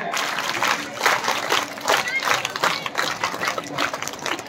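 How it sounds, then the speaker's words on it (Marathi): Children at a school prize-distribution ceremony clap along in a steady rhythm, a dense crowd of claps sustained throughout at close range, with pulses of louder clapping recurring about once a second. "Raise your hands, rhythmic clap."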